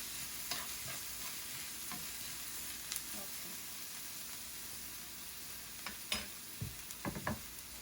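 Ginger and ground garlic frying in a pan for pav bhaji, a close, steady sizzle with occasional clinks and scrapes of stirring, mostly in the last few seconds.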